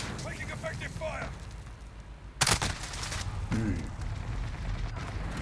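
Video game gunfire in a multiplayer military shooter, with a sharp loud burst near the middle and scattered shots and rattles through a noisy battle mix, heard under game voice callouts.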